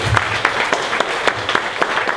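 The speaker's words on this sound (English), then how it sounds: "we have to stand up and give them a round of applause" Audience clapping at a morning startup pitch event in Dallas, a fairly close patter of hands with distinct individual claps, short and steady, with faint voices beneath.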